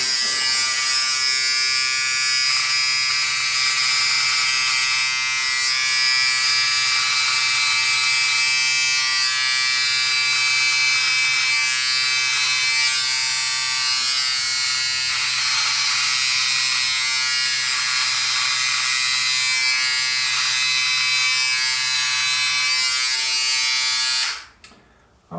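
A Philips 3000 Series BT3206 beard trimmer buzzes continuously as it cuts through a beard, a close, high-pitched electric whine with slight changes in tone as it moves. It cuts off abruptly at the end.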